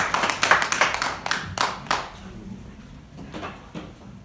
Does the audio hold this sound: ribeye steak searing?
no